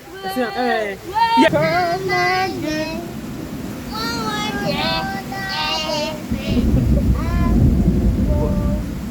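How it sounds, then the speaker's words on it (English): Rain falls and thunder rumbles low during a storm in Italy, a steady wash of rainfall and deep rolling booms that swell louder toward the end, with children talking over it in the first half. "Rain."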